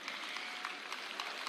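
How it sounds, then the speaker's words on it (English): A school audience at a Senior Secondary Day event applauds the chairman with faint, steady clapping at a distance, with no talk over it. "Give a big hand clap to our chairman"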